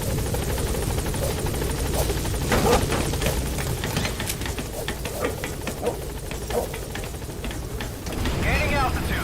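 A support helicopter in the video game Metal Gear Solid V: The Phantom Pain arrives, its rotor beating in a steady throbbing drone close by, with gunfire-like cracks and a voice speaking over it.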